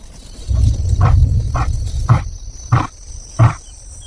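A male lion roars at night: a rumbling build-up followed by a rhythmic series of deep, grunting calls, each one short and evenly spaced, loud and fairly close against quiet night air.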